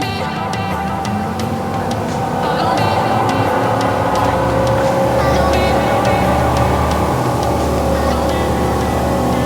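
Motorboat engine running steadily up close, a loud continuous rumble with water noise and a few faint clicks, no speech.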